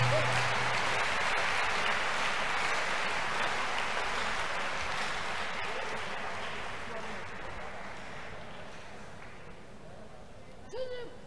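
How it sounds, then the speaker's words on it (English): Congregation at a church crusade clapping together, a broad steady burst of applause that gradually fades over several seconds, with a brief voice near the end. "Big clap offering to Jesus"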